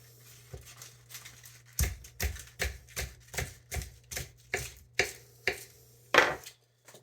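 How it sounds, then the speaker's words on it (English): A knife chops collard greens on a cutting board in a steady series of about a dozen crisp thuds, close and clear, with no talking. "So I'm just going to continue chopping them all up."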